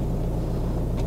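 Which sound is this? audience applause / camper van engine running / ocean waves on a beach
camper van engine running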